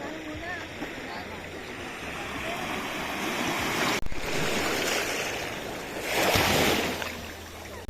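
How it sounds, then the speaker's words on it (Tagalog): Ocean waves wash steadily at a beachfront in San Juan, La Union, a continuous broad roar with a louder surge near the end, mixed with wind buffeting and people talking nearby. "nandito kami ngayon sa beachfront para, yun, mag-swimming na"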